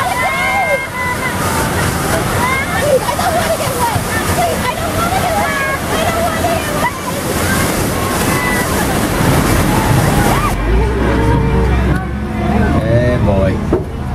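Loud rushing and sloshing water from a tram ride at Universal Studios Hollywood at night, mixed with excited voices and shrieks from a crowd, continuous throughout, with a deeper churning splash near the end.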